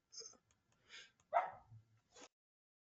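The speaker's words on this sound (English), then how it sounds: "I need to address my dog for a second now" A dog barks indoors during an online meeting, giving a few short, faint yips and barks spaced across a couple of seconds in an otherwise quiet room.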